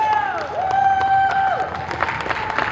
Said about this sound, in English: Hey, y'all can applaud that.